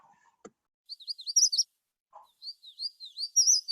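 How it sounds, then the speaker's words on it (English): Magnolia Warbler song, a clear high sweet phrase of quick warbled notes given twice, with a short gap between phrases, close and alone against silence. "So this Magnolia Warbler song"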